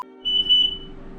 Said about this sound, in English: press and hold this till it beeps like 5 times